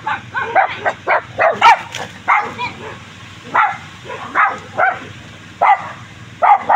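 A dog barks repeatedly in short, loud bursts, with irregular pauses between the barks.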